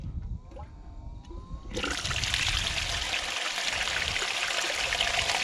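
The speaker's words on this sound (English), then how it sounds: "now what I do is slowly fire the water up" Water surges on suddenly and keeps up a steady, loud rushing wash over a gold sluice mat, after a quieter start with faint dribbling and small knocks.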